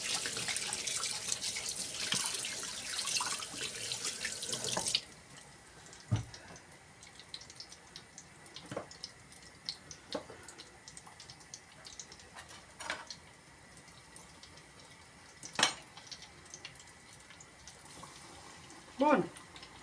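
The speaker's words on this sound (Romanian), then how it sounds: "Hai să mă spăl pe mână" A kitchen tap runs strongly at a sink while hands are washed, a steady rushing stream that shuts off after a few seconds, leaving faint drips and small knocks in a quiet room.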